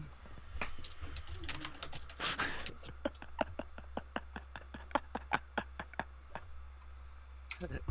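Someone types on a computer keyboard during an online voice-chat session, a close, quick run of crisp key clicks with a brief murmur of voices early on.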